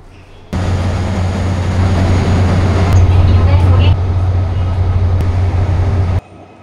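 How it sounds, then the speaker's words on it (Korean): A Mugunghwa passenger train on the Gyeongui suburban line, heard from inside as a steady low rumble and rolling drone that starts abruptly and holds for several seconds before cutting off. "지금 이 경의선 교외선을 타고 무궁화 열차거든요"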